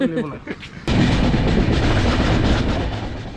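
A passenger train, the Jammu Tawi Express, rolls toward Jammu Tawi after leaving Kathua station, its steady loud rumble and clatter starting abruptly and running continuously, with faint voices at the start.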